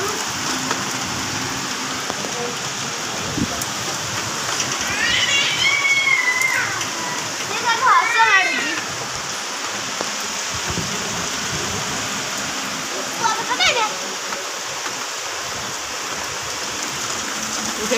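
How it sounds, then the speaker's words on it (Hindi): Rain and hail fall hard with wind in a steady, dense wash, while a few brief bird-like chirps or squeaks sound faintly over the downpour; no talking. "केते कुआपथर पड़ता है"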